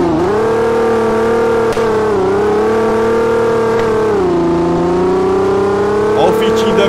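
Car engine in a Brazilian-style Android mobile driving game, revving steadily toward the redline with a strong, sustained tone that dips briefly and climbs again, loud and close, with no break in the sound.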